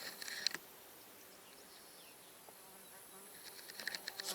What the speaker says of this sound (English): The flies that are, or whatever they are, flying insects that keep flying in here,